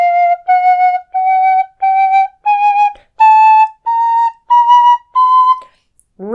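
An African blackwood high D tin whistle plays a slow run of nine clear, pure notes that step gradually upward through half-holed pitches, each held about half a second with short gaps, close and alone.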